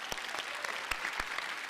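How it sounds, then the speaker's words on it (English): A theater audience claps at the Brooklyn State of the Borough address, a brief burst of close, crisp applause with distinct individual claps. "Please, a round of applause for CUNY."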